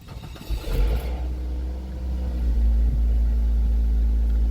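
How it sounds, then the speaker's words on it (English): A car engine turns over and settles into a steady low rumbling idle during an automotive air-conditioning recharge, close and continuous with no talking. "Now turn the car on."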